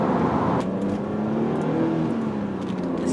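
The engine of a BMW Z4 Alpina Roadster S, rated at 300 horsepower, pulls hard under acceleration, a loud, close, rising growl that sweeps upward in pitch as the car gathers speed, with no talk.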